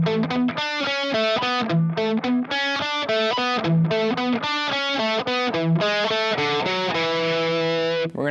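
Opening riff on a heavily distorted electric guitar: fast, choppy palm-muted notes and short chord stabs in a tight, driving rhythm, loud and alone, ending in a sustained chord.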